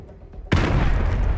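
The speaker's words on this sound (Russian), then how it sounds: "Граната! Валите оттуда!" Grenade blast in Call of Duty Modern Warfare 2 Remastered: a sudden loud boom after a quiet moment, followed by a sustained rumbling roar of debris and low-end echo.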